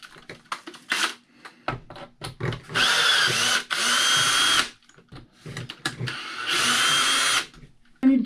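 A cordless power drill backs bolts out of a Traxxas Fiesta Rally RC car, whirring in three or four sustained close bursts between quieter clicks and handling noises.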